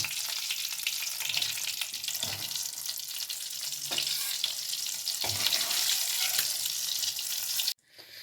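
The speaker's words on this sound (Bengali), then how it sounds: "আমি এইভাবে সব প্রন কটাকে ভেজে নেব" Prawns frying in a pan of hot oil make a loud, continuous crackling sizzle with soft stirring scrapes, ending abruptly near the close.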